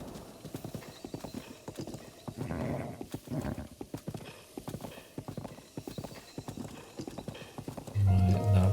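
Horse hooves clip-clop at a steady galloping rhythm in Breath of the Wild, loud and close, with brief whinnies and occasional faint game noises mixed in.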